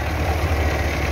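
A Belarus tractor engine idles in a steady low rumble with a mid-range drone, close and continuous, with no voices.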